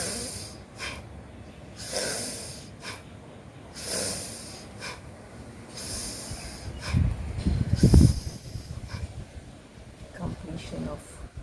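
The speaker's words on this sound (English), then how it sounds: "completion of 10 breaths like this will constitute one round of the pranayama, Bhastrika pranayama" A person doing Bhastrika pranayama, the yoga bellows breath, makes forceful breaths through the nose. About every two seconds comes a loud, near, hissing rush, with a heavier, rougher breath near the end.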